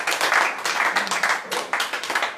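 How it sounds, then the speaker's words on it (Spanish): A congregation claps for a pastor at a church gathering in a brief, uneven burst of moderate applause, with a few short surges and dips. "no antes de darle un aplauso aquí al pastor."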